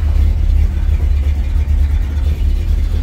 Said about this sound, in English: Sounds good with the dual exhaust.